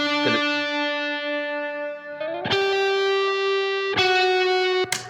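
An electric guitar runs through a Marshall amp simulator plugin with a slightly driven, not fully clean tone: a sustained chord rings out, then three more struck chords follow at intervals, each sounding alone and up close.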